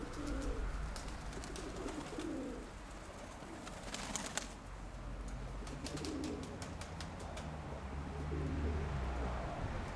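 Pigeons coo in low, soft repeated calls against steady outdoor background noise, with occasional faint clicks and rustling.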